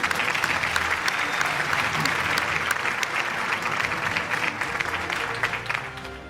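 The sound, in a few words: audience applause at award show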